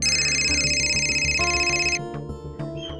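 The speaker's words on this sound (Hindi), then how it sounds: "फोन उठाइए मैडम जी।" A phone rings in a domestic drama scene, a bright repeating electronic ringtone sounding steadily and fairly loud for about two seconds before cutting off, with faint background sounds continuing afterward.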